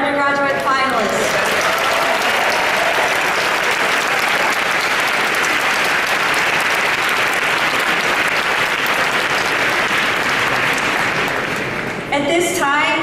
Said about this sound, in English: let's give another round of applause for all of our undergraduate finalists